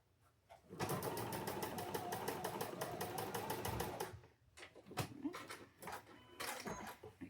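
A sewing machine stitches diagonal seams across quilt blocks in one loud, steady run of fine rapid clatter for about three seconds, then stops and gives a few short bursts of stitching.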